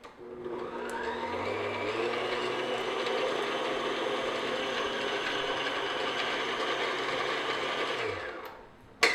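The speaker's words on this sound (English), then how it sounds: "just beat your butter just for like a minute until it's nice and creamy and smooth" An electric stand mixer whirs steadily at close range as it beats butter until creamy for classic vanilla cupcakes, a constant mechanical hum with a gear-like rattle running unbroken for about eight seconds before stopping.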